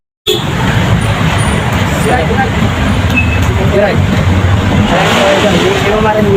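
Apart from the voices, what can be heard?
night traffic in Manila, many vehicles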